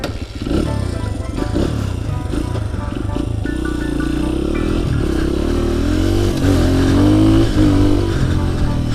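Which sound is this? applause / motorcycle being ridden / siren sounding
motorcycle being ridden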